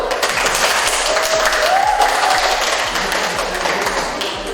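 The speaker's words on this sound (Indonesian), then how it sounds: "Tepuk tangan dulu, kelompok 1." Classroom audience clapping for student group 1 during a lesson presentation, steady dense applause with some sharper individual claps throughout, fairly loud and continuous with no clear talk.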